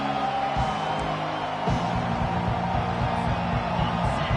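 Stadium crowd noise in a college football video game, a steady roar of cheering with occasional whoops, continuous and fairly loud throughout, with a few thumps.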